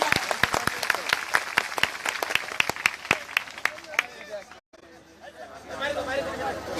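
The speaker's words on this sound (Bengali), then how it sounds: "হৃদয়ের অন্তঃস্থল থেকে আমাদের একটি জোরে করতালি হবে ম্যাডামের জন্য।" An audience at a Ride Bangladesh special programme bursts into sharp, rapid applause that fades out after about four seconds, followed by a brief silence and then a rising crowd murmur.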